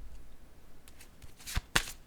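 A playing card drawn from a deck: quiet papery slides and soft flicks, a few brief rustles ending in two sharper snaps close up, with no talking.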